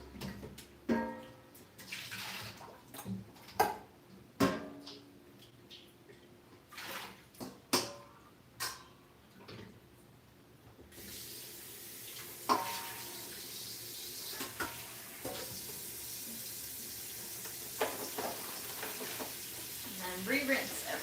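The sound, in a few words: dumping rinse water from vegetables in the sink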